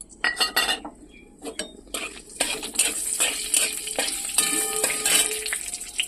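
Whole spices (cinnamon pieces, cumin, a dried red chilli and bay leaves) frying in mustard oil for tempering chicken curry, with a steady loud sizzle, metal spoon clinks and scraping stirs against the pan, close up.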